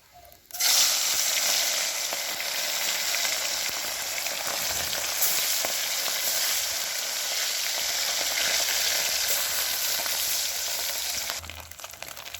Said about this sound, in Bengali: এবারে মাছগুলো ভেজে ঝাল করে নেব।